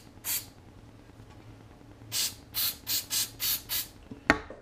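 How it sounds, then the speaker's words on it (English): Short hissing bursts from a spray can used in hockey gear prep: one lone spray, a pause, then a quick run of six even puffs, followed by a faint clack, all close and without talk. "I take this, three sprays, not two, not three and a half, three."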